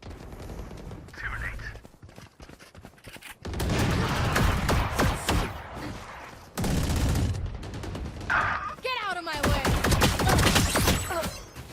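Bursts of video game gunfire crackle in dense volleys with short pauses between them, loud and close, with quiet voices now and then underneath.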